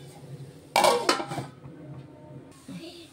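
A metal pot lid clanks down onto a pan of meal maker fry with two sharp, close clatters in quick succession, then a faint scrape, over a quiet background.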